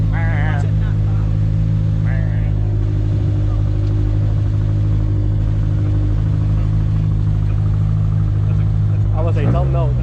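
A turbocharged Ford Mustang S550 idling steadily after a cold start, a loud, deep, constant engine drone close by, with people talking over it.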